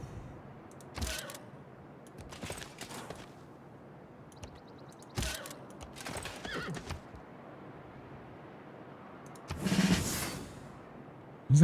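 Several horse whinnies and neighs from the Civilization 6 strategy game ring out in separate bursts, some louder and closer than others, with no talk over them.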